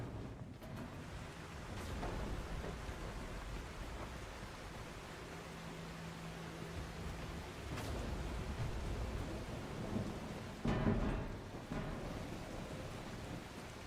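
Continuous rush of rain and wind from a storm in the survival game The Last Caretaker, with several deeper rolls of thunder swelling out of the steady noise, the strongest near the end.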